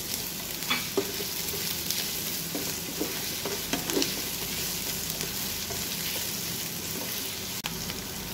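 Sliced onion fries in a pan for an adobo with a Coca-Cola braise, making a dense close sizzle with a few light scrapes and pops against the hot metal, heard alone without talk.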